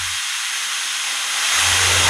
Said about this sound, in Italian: ora possiamo inclinare il trapano e dobbiamo forare la chiave